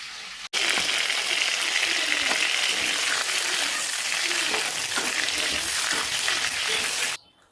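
Dried red chillies and bay leaves crackle and sizzle hard in hot oil, a steady dense frying hiss with small pops that runs without a break for about seven seconds and then stops abruptly.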